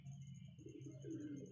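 A mother pigeon feeding her chick, heard as soft low cooing and faint muffled chick sounds, quiet and close, in a brief moment with no talk.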